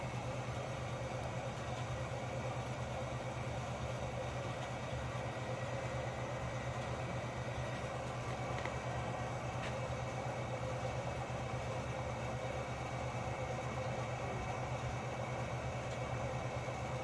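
An Espar hydronic diesel heater installed on a 2012 VW Golf TDI runs with a steady, faint, jet-like roar and hum that stays even throughout, with no talking.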